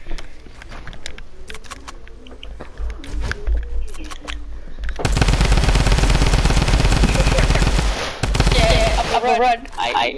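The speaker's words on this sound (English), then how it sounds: "You're shooting at my direction." Rapid video game gunfire rattles in a long loud burst in a hide-and-seek match, with scattered clicks and sounds beforehand and players' voices around it.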